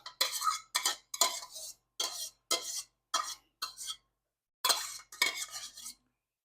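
Lasagna sauce being spooned and spread with a metal utensil, a run of about ten short scraping clinks and taps against the dish, fairly close and quiet, with a brief pause partway through.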